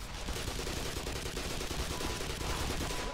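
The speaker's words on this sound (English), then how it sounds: "That shotgun hurt, man." Rapid shotgun blasts in the video game Black Mesa, loud and continuous, layered with dense combat noise and no clear gaps between shots.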